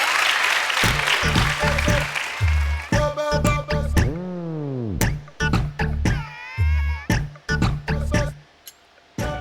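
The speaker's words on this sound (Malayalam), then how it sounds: "കൈയടിക്കൂ കൈയടിക്കൂ." Audience clapping at a comedy stage show breaks out in bursts, mixed with lively voices, whistle-like tones and other stage noise throughout.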